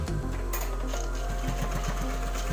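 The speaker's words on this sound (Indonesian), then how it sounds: "terus ini kita kunci atau kita jahit" A sewing machine runs steadily, stitching a fabric pocket in a patch-pocket sewing project: a continuous close mechanical whir with a rapid needle rhythm and no voices.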